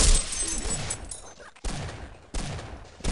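Bursts of gunfire shoot at vortigaunts in Half-Life, with a continuous rattle and two sharp, loud attacks cutting in near the end, close and with no one speaking.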